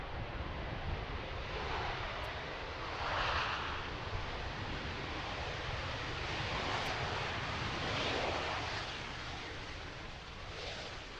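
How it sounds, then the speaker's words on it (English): A Delta airliner lands at a busy cargo airport, its reverse thrusters producing a broad, steady roar that swells and recedes across the whole stretch under wind noise, heard from a distance outdoors. "Nice loud reverse thrusters on that one."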